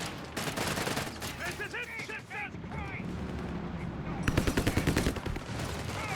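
Machine gun fire from a machine gun tank in the war strategy game Company of Heroes 3, with rapid bursts and gunfire under a commentator's voice. A dense, loud volley of shots takes over near the end.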